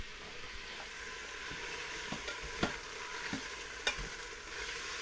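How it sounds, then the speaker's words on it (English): Thin strips of tough top round steak sauté in an Instant Pot, giving a steady low sizzle with faint scrapes and a few sharp stirring clicks against the pot, no talk. "saute the meat a little bit"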